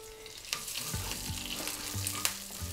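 Urad dal, curry leaves and dried red chilli frying in coconut oil for cabbage thoran, a quiet steady sizzle with a few sharp crackles and spoon stirs, close and without talk.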